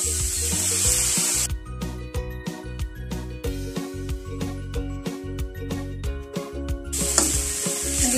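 Vegetables for lumpia stir-frying with soy sauce in a pan, a loud sizzle that quiets while a spatula scrapes and clacks repeatedly against the pan, then the sizzle swells again.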